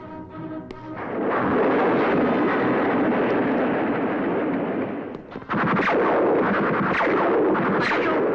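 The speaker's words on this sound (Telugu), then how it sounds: "బాంబు పేలింది నా తమ్ముడు చచ్చిపోయాడు" A bomb explosion in an Indian action movie scene bursts out as a loud, sustained roaring blast that rumbles on, briefly dips, then surges again with a second heavy burst.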